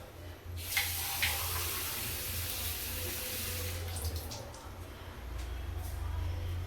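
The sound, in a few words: water being poured into pot for goat intestine soup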